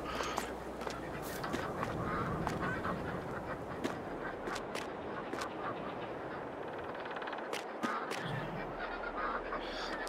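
Ducks and chickens in Farming Simulator 22 honk and quack in scattered calls over a dense, steady farmyard background, with no talking.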